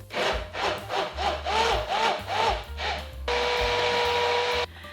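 A food processor whirs in several short pulses while blending ingredients for a vegan Catalina salad dressing, then runs in one continuous buzzing burst before stopping.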